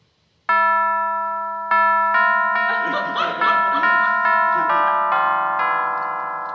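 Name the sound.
doorbell ringing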